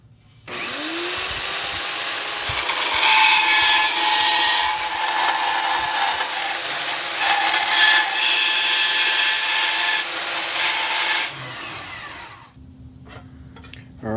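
A power saw cuts around a marked circle for the back of a steam gauge on a steampunk floor lamp, running loud and steady for about eleven seconds before winding down, with light handling sounds afterward.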